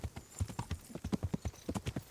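Horse hooves clip-clop in a steady trotting rhythm while riding in the medieval video game Kingdom Come Deliverance, the hoofbeats clear and fairly close with no talk over them.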